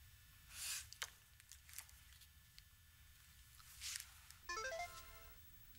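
A telephone ringtone in a Korean TV drama scene plays a short, faint melodic ring near the end, after a quiet stretch of soft rustles and small bumps.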